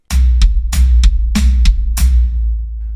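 A drum kit plays a short groove of double-kick bass drum under sharp cymbal and snare hits, with four loud, bright accents in an even pattern, close and alone.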